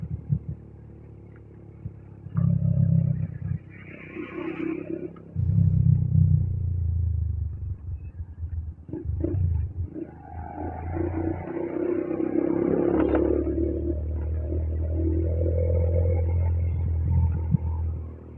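Road traffic passing through a construction zone, with cars and motorcycles rumbling and whooshing by in waves, engines swelling close then fading, broad low rumble dominating.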